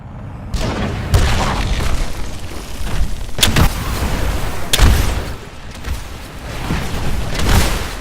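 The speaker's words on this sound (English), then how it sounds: "Firing your Titan's primary weapon is as easy as firing a pilot weapon." A Titan's primary weapon fires in the Titanfall video game, producing repeated heavy booming shots over a loud, constant rumble of battle, with several sharp blasts standing out.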